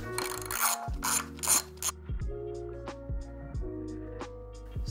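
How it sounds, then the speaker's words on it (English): A hand ratchet backs nuts off the rear motor of a 2024 Apollo Pro electric scooter. Two quick bursts of rasping clicks come first, then a series of slower, evenly spaced single clicks, all close and crisp. "now we can continue removing the nuts all the way"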